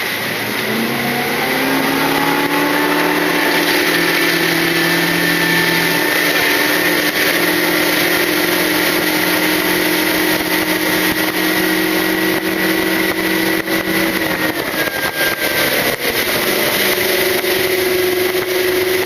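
Mercury 200hp Pro XS V8 4.6L four-stroke outboard running steadily and loud throughout, with a continuous engine drone that shifts pitch slightly as the throttle changes near the end.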